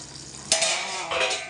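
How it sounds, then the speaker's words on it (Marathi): Masala okra cooking in a pan as the lid comes off, a soft sizzle swelling into a louder bright hiss of frying oil, with light stirring scrapes and no voices. "चला तर आपण आता झाकण ओपन करून बघूया आपली भेंडी झाली की नाही."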